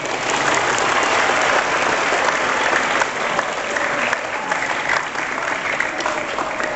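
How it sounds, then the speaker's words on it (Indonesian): A crowd at a religious sermon gives a burst of dense, steady applause. The clapping is close and continuous for the whole stretch, with a faint murmur of voices mixed in. "Tepuk tangan dulu."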